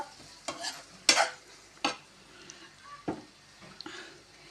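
Chili powder gets stirred into carrot bhaji in a pan, several separate scraping strokes and light clacks over a faint background sizzle.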